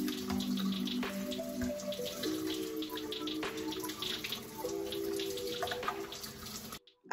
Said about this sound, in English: I then rewash the peeled shrimp.